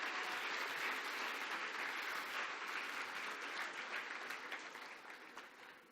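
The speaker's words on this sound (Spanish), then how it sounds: "Dale un aplauso a Dios." A church audience applauds during a Spanish-language service, a dense, sustained wash of clapping that slowly tapers toward the end.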